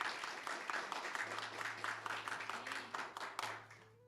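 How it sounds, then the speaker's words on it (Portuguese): Congregation at a church celebration service applauding in a steady wash of clapping, faint and somewhat distant, with a low sustained tone underneath for most of the stretch before it fades out. "Pode aplaudir o Senhor pela vida dos dois, em nome de Jesus Cristo"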